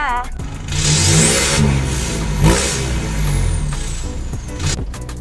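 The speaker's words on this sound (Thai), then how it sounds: "ไปฟังเสียงเครื่องกันเลยค่ะ" A 2021 Isuzu D-Max 1.9 single-cab pickup engine revs up loudly and close, holding a high rising whine before settling and revving again, with a faint voice underneath.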